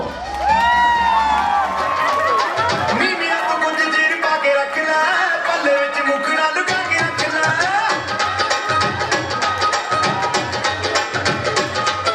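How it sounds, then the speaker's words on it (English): A small group at a home graduation celebration cheers, whoops and claps loudly for a boy's entrance, high shrill shouts and children's voices ringing out over continuous clapping that carries on throughout. "give a big round of applause to Leo."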